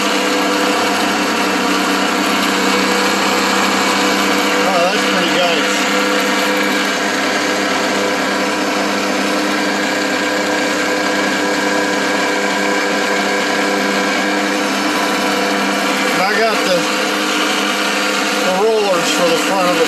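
Combine harvester engine running steadily at a loud, even idle-like drone with layered mechanical hum, a few brief whirring sweeps breaking in, no talk over it.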